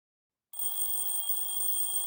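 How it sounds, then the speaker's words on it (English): An alarm clock rings in the video game Doki Doki Outcast, a steady electronic bell tone that starts abruptly after half a second of silence and keeps going without a break, clear and moderately loud. "I wake up to sound of my alarm clock"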